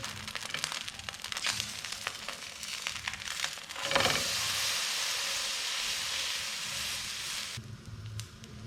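Bread dipped in batter sizzles in a hot pan for a breakfast dish, a steady close hiss and crackle that swells loudly partway through and keeps going.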